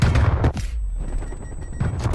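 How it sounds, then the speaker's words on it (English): Explosions and gunfire in a video game firefight after a grenade throw, with dense bursts of booming blasts and shots at the start and end, loud and close, and a quieter stretch of rumble and scattered fire between. "explosions everywhere"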